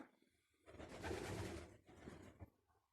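Domestic pigeons coo inside their loft, a low, burbling call swelling to a fuller middle section and then trailing off in shorter pulses, quiet and close.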